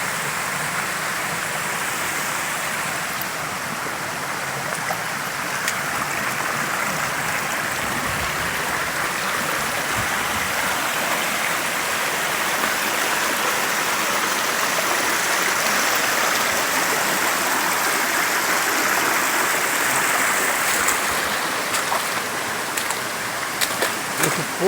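Steady rushing water of a stream and waterfall at Lajeiro creek, a constant broadband roar that holds evenly throughout with no voices over it.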